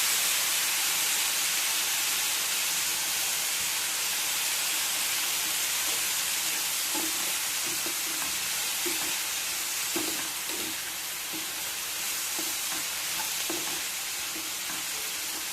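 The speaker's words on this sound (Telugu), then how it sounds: "ఉల్లిపాయ సన్న సెగ మీద మగ్గించుకోవాలన్నమాట" Onions and green chillies with salt and turmeric frying gently in a pan on a low flame, a steady soft sizzle with occasional light stirring taps in the second half.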